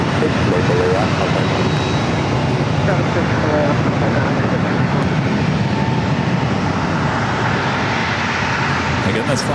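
A converted Boeing 767-300ER jet at San Diego airport roars loud and close, its engine noise a steady, broadband wash that holds for the full stretch without letting up.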